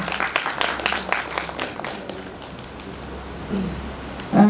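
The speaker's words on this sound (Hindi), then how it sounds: "ये बड़ी उपलब्धियां हैं, आप ताली बजा सकते हैं।" An audience at an event honouring an award-winning film actor breaks into moderate applause that thins out and fades over a few seconds, ending with a brief louder sound.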